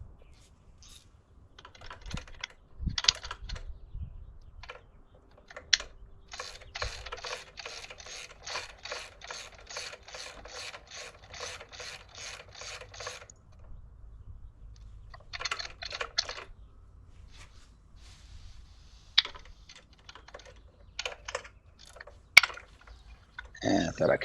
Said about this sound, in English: Let's first tighten the foot pegs here.